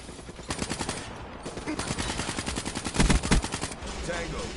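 Rapid automatic gunfire from the Black Ops 3 multiplayer video game, with sustained bursts of loud, rhythmic shots that continue nearly throughout and swell in intensity near the end.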